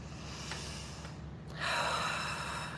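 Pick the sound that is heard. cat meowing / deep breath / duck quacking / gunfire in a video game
deep breath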